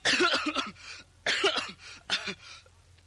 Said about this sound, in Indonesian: Baris kau pakai batuk-batuk segala